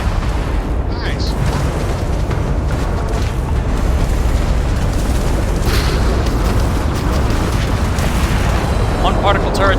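A particle turret is destroyed during a spaceship battle in Starfield, heavy continuous booming and rumbling explosions filling the mix, with voices talking over the barrage.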